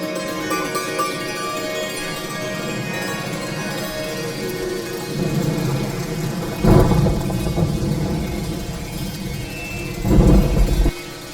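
Steady rain hisses outdoors as low rumbles of thunder roll in, with two heavier, deeper bursts of thunder swelling toward the end over the constant downpour.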